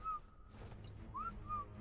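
Whistle command in the Ark Survival Evolved video game, three short rising whistle tones over a low rumble, faint and spaced apart.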